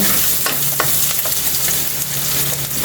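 Onions sauté in hot oil toward golden brown, a close, steady sizzle broken by frequent scraping stirs and soft clinks of a utensil against the pan.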